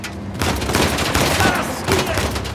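Automatic weapon fire during a firefight in the video game Uncharted: The Lost Legacy, a dense, continuous volley of shots filling the clip at close range, loud and sustained with a brief quieter start.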